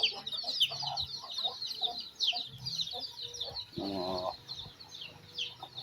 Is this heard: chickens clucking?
yes